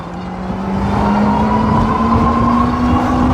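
An electric moped-style e-bike with an adjustable-height frame pulling away on throttle, its motor giving a steady rising whine that climbs in pitch as speed builds, with constant road and wind rush throughout.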